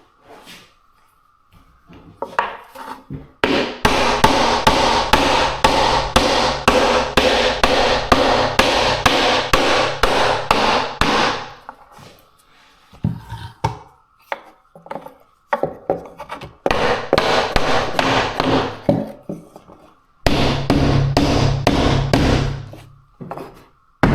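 Hammer smacking a wooden window trim piece into place in a holiday home build, long runs of rapid, loud, close repetitive knocks in several bursts separated by short pauses.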